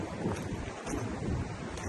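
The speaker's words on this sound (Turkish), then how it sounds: "Bugün de aşırı rüzgar var." Steady roaring wind buffeting the microphone beside a stream, a dense rushing noise that gusts slightly throughout, loud and close.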